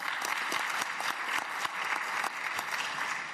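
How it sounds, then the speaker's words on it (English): Steady audience applause fills a panel discussion hall at an industry conference, dense continuous clapping from a sizable crowd held at even loudness throughout, with no voices on top. "A round of applause, ladies and gentlemen."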